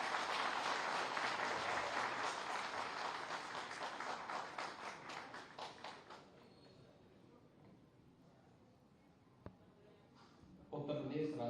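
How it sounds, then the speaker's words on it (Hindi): Steady applause from an audience, loud at first then thinning and fading out, leaving quiet room tone with a brief click near the end. "आपकी तालियों के अभिवादन के साथ।"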